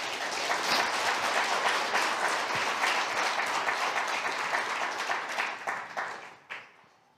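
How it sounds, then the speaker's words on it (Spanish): Church congregation gives sustained applause, a dense steady roar of many hands clapping that fades out near the end. "Démosle un fuerte aplauso al Señor."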